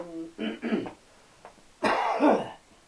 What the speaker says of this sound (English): good cough.